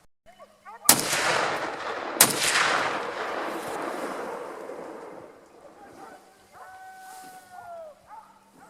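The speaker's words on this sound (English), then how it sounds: "At the first shot I didn't get it, but then the second I have got it" Two sharp rifle shots ring out during a wild boar drive hunt, each a loud crack followed by a long rolling echo, then a quieter outdoor stretch with a faint whistle-like tone.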